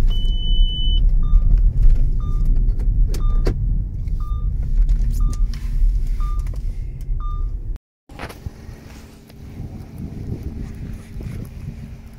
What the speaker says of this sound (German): Das macht lauter so als Piep, weil wir nicht angeschnallt sind.